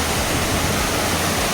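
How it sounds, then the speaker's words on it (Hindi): Andhiyar Jhola waterfall, about 80 feet high, roars as a loud, steady wash of falling water heard up close, with no pauses or voices. "तो ये है संगवारी हो अंधियार झोला वाटरफॉल"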